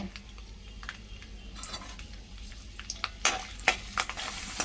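Urad dal and chana dal frying in hot oil in a pan, a soft steady sizzle with a few sharper crackles and light stirring clicks near the end, no voices.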